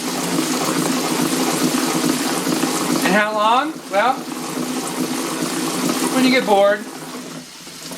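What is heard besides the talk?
tap water running and spraying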